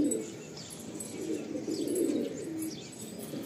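Pigeons cooing softly and steadily, a low murmuring coo with faint chirps above, fairly quiet and continuous.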